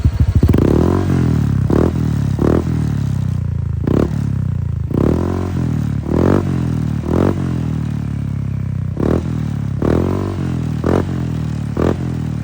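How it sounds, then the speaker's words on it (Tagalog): Honda Click scooter fitted with an aftermarket Kvin exhaust pipe revs repeatedly in sharp, loud blips over a steady idle, close up, with no talking. "unahin na natin soundcheck tong Honda Click mga boss."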